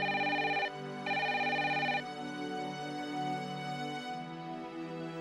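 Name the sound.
telephone ringing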